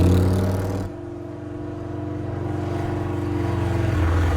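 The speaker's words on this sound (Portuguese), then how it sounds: "Som alto de moto passando." A motorcycle in the Spider-Man 2 video game roars loudly and close, its steady engine drone swelling again after a brief dip, with no one talking.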